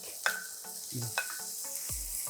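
Chopped paprika, celery and onion with a little minced garlic cook in a pan with a soft, steady sizzle, broken by a few sharp clinks of a utensil stirring against the metal.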